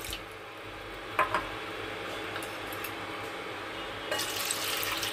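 About one and a half cups of water pours into a large bowl, a continuous close rush with a brief splash early on and a brighter gush near the end.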